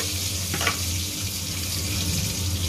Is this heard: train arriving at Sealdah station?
no